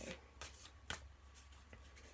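A deck of tarot-style cards is shuffled by hand, giving faint, quick papery riffles and soft slaps in short bursts in a quiet room.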